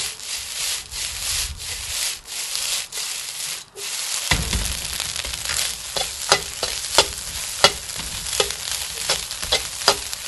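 Fried rice with pork lard and sesame oil being tossed and stirred in a pan, giving steady scraping and rubbing with a soft sizzle and a string of sharper knocks in the second half, close and with no voices.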